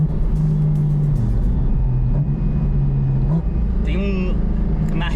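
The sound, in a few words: car engine intake sound on downshift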